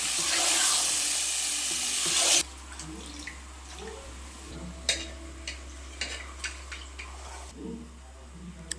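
Mutton stirred into fried onions in a hot pan, opening with a loud rush of sizzling that drops away to a softer, steady crackle marked by scattered scraping clinks of the spoon.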